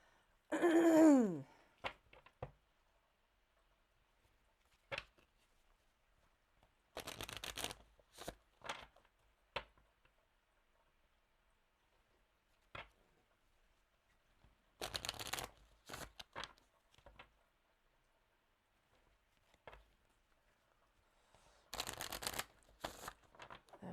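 Tarot-style cards being shuffled for a numerology reading, with repeated short riffling bursts separated by quiet pauses, close and fairly soft.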